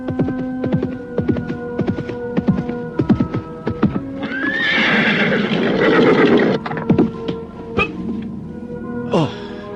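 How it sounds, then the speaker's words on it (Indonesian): A horse whinnies loudly in a radio drama scene, with hooves clip-clopping in a steady rhythm before and after as a rider approaches, plus a low hum underneath. "ketika dari jauh nampak seorang penunggang kuda menghampirinya"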